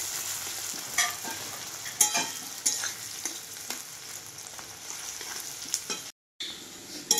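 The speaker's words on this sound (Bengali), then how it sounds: "এইভাবে পেঁয়াজটাকে আমি কিছুক্ষণ ভাজি দেব" Sliced onions fry in hot oil, a constant sizzle punctuated by sharp spatula knocks and scrapes roughly every second, with a short silent gap near the end.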